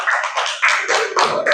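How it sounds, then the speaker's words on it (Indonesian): A small group of children claps in a classroom for a classmate, a loud, close, uneven patter of hands lasting under two seconds with no talk over it. "Tepuk tangan untuk Nabila"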